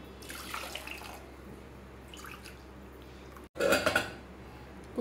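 Milk poured into a pressure cooker holding rinsed moong dal and rice, a splashing, liquid pour that swells suddenly near the end after a brief clatter of pots, with no talking.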